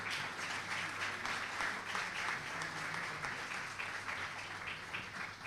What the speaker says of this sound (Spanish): La recibimos, por favor, con un aplauso.